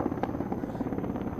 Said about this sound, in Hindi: ये है प्रधानमंत्री का हेलीकॉप्टर, ये आप देखिए